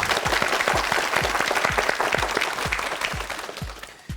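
A studio audience on a Korean television word-game show claps steadily and loudly, a dense even patter of many hands that carries on without pause and fades slightly at the end.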